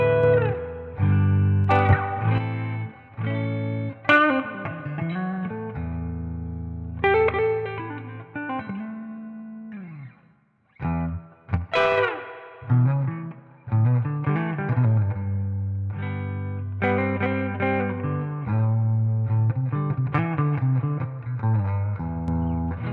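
Epiphone 1958 Korina Flying V electric guitar played through distortion and reverb, loud sustained chords and bending lead phrases with a brief pause midway, then dense riffing continues, no talk.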